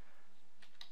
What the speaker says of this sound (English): from a command prompt I'm going to type in